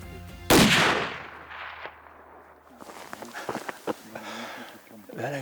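A single loud hunting rifle shot fired at a buck cracks out once near the start, then trails off into quieter outdoor rustling and soft movement sounds.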